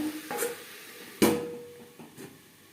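Eggplant being stirred with onions in a pan on the stove, a few scraping, clattering spatula strokes against the metal with a soft sizzle underneath, one louder scrape in the middle.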